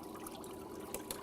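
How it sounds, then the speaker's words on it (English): Water fills the tank of a BCM egg counter with a soft, steady trickle, quiet and close, with no voices. "As the tank is filling with water, we want to dislodge any air bubbles that are in the detection chamber."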